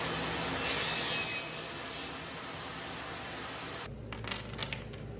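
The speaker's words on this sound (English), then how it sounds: "I'm going to go ahead and cut these in lengths of a 1/2 inch each to hold each of the sockets" Wood stock is cut into short half-inch lengths with a steady, broadband power-tool roar that runs for several seconds, then cuts out abruptly into a few light clicks and knocks.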